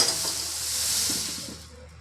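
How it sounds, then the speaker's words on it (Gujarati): Milk boils on the stove with a steady broad hiss of bubbling and steam, close and fairly loud, fading toward the end. "ચાલો તો દૂધ તો ઉકળી ગયું છે"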